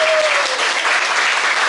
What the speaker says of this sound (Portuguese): Gente, foi tão fraquinha essas palmas.